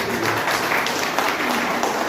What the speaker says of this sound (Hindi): एक बार जोरदार ताली चाहिए